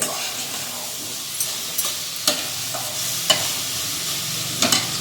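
Grated carrot and sugar are stirred in a pan over a soft, steady sizzle, with several distinct scraping strokes of the spoon against the pan at irregular intervals, close by.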